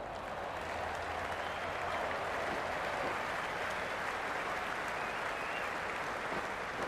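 A stadium crowd in the Cricket 26 video game roars and applauds, a dense steady wash of cheering that holds at an even, moderate level throughout.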